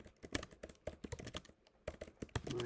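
Fast typing on a computer keyboard, irregular clusters of crisp key clicks with brief pauses, close and quiet, no voices.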